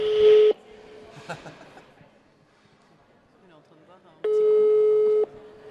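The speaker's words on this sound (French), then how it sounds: "Deuxième sonnerie." A telephone ringback tone sounds during an outgoing call, two long steady tones separated by a gap filled with faint background noise and soft murmuring.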